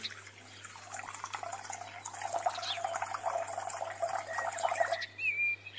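About 270 grams of water streams steadily into a container for about five seconds, a continuous liquid pour with a bright splashing texture, heard close up with no talking.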